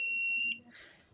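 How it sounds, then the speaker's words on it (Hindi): A digital multimeter gives a continuity-test beep while checking a CRT television with no sound: one sustained high electronic tone for about half a second, clear and close, followed by faint hiss. "मशीन में देखिए ये रीडिंग आती है और बीप की आवाज़ आती है।"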